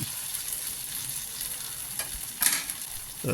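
Vegetable uttapam batter sizzling in melted butter on a hot pan, a steady close hiss with a few brief clatters of a utensil.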